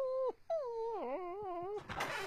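Cartoon dog whimpering, a few high, wavering whines that rise and fall, close and clear, ending in a muffled rustle.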